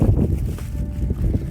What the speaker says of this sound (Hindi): हवा चल रही है, बहुत ठंड हवा है यहाँ पर।